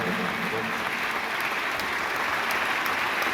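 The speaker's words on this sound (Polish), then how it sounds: "Tak, należą mi się brawa." An audience at a school student-council awards ceremony in Gorzów Wielkopolski breaks into steady, dense applause that fills the room at full volume and holds evenly throughout, with no voices above it.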